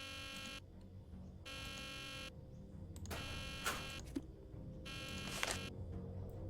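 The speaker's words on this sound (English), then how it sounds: "This was not what I expected when I set the alarm." Harsh electronic alarm buzzes in repeated bursts in the Nancy Drew game The Deadly Device, a steady loud drone switching on and off with faint clicks between.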